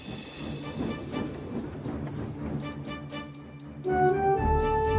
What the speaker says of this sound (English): Murdoch collected another long, heavy train